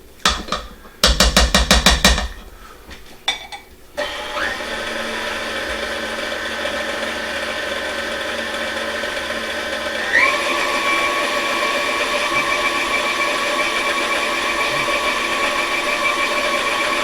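Stand mixer blending flour into brioche dough, a steady motor whir that runs continuously and rises slightly in pitch partway through, after a few louder clattering bursts at the start.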